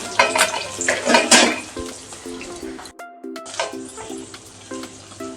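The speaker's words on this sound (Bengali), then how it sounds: "একটু ডুবো তেলেই আমি ভাজবো।" Pointed gourd deep frying in oil while a utensil clinks and scrapes against the pan in a steady rhythm, the sizzle loud early then settling, with a brief silent gap midway.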